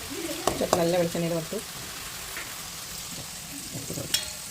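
Frying in coconut oil gives a soft, steady sizzle under a few brief tonal clinks and knocks early on, moderately near, with no talk.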